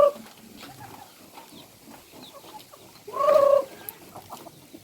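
Chickens clucking in a rural yard, scattered soft clucks and murmurs throughout with one louder, drawn-out squawk partway through, close by and otherwise alone.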